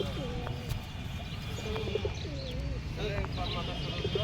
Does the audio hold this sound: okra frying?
no